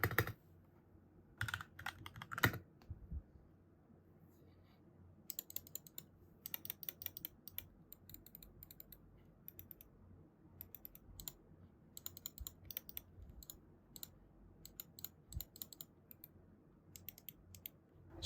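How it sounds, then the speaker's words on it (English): Switches on a PWNAGE SYMM 2 mini gaming mouse clicking in sparse, crisp bursts, with a few louder clusters early and then steady irregular close-up clicks against a quiet background. "here's a little sound test of the switches on this SYMM 2"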